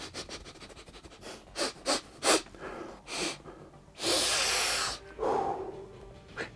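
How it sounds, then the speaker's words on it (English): Several sharp, close nasal sniffs, some in quick pairs, taken at a newly opened box for a Warhammer The Old World miniature kit, a Battle Standard on Royal Pegasus, followed by a longer breathy inhale and a softer exhale, with no talking. "Let's do a sniff test."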